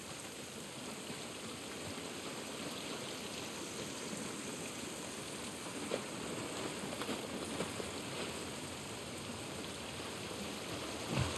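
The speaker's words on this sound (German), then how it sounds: "Dieser Regen ist nicht gut für uns." Steady rain in the video game The Last of Us Part 1 hisses continuously without a break, with a couple of faint drips or taps standing out briefly.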